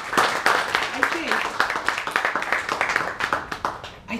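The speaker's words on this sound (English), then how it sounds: "Give him a round of applause," An audience gives a round of applause, with quick, fairly dense clapping that goes on steadily for about four seconds. Voices and murmurs run through it.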